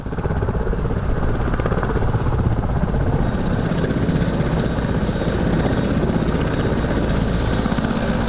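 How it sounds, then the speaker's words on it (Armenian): Loud, steady thumping rotor chop of a helicopter landing close by at Stepanakert airport, with a continuous engine whine that rises partway through. "Նախագահ Սարգսյանի ուղղաթիռը վայրէջք է կատարում Ստեփանակերտի օդանավակայանում։"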